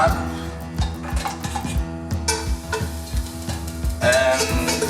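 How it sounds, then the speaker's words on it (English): Crab going into a heated pot for a vegetable soup, with repeated metallic clinks and scrapes of utensils against the pot over a low sizzle. The sounds are close and come in irregular bursts, with no talking. "I'm going to have to start by putting the crab"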